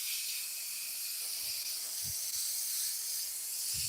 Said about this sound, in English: making and airbrushing a pen